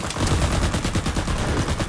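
Rapid automatic gunfire in the video game CRSED, a fast, even stream of close, loud shots running through the whole moment with no talking.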